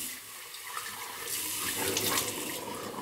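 A bathroom tap runs steadily into a sink while the face is rinsed before shaving, a close, continuous splashing hiss that swells slightly toward the end, with no talking.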